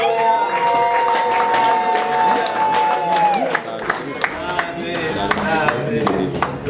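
A church congregation at a ministry gathering breaks into high, wavering ululation with cheering and scattered sharp claps, a lively crowd sound that carries on throughout.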